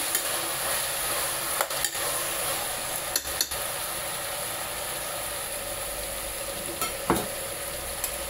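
Ingredients stir-fry in a pan with a steady, close sizzle, broken by occasional scraping clicks of a utensil against the pan, and no talking.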